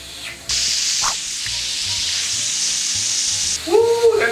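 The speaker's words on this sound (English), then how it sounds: "I can hear it frying" Steady, loud sizzling of chicken frying in hot grease, a broad crackling hiss that starts abruptly and holds, with a brief voice at the end.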